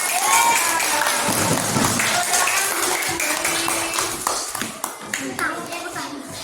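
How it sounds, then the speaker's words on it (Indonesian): A classroom of young children claps together in an Indonesian school lesson, a burst of loud, close applause that thins into scattered claps and light chatter toward the end. "Tepuk tangan dulu"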